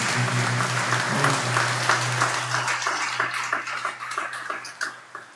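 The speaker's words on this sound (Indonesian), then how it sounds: "Kita berikan aplaus." A church congregation at a Jubilee 2025 opening Mass applauds together, a warm sustained clapping that thins and fades toward the end, heard over a steady low hum.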